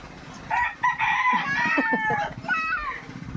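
A fighting rooster crows nearby, one loud drawn-out call with a few short clucks and soft rustling around it.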